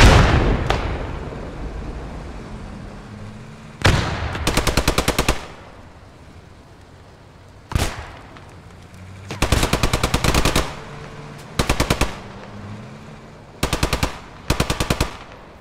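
In the video game Post Scriptum, soldiers fire at building windows with loud, close bursts of rapid automatic gunfire broken by single heavy shots and pauses, plus occasional distant shots, with no voices.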